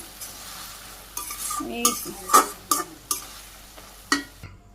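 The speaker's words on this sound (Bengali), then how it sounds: "আমি রসুন দিয়ে দিলাম নামানোর আগে, নেড়ে চেড়ে নামানো" Okra cooked with garlic being stirred in a pot in a Bangladeshi village kitchen: a series of close, uneven scraping strokes and clinks of the spoon against the pot, with a faint sizzle underneath and no talking.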